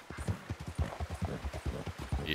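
Horse hooves clip-clop in a quick, steady rhythm in the video game Red Dead Redemption 2, fairly soft and continuous.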